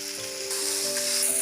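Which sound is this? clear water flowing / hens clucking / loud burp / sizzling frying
sizzling frying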